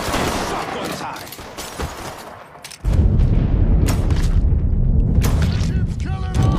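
Shotgun blasts in the video game Mafia 3 during a firefight: a heavy boom at about three seconds opens a loud, sustained stretch of gunfire and rumble, with sharp reports scattered before and after.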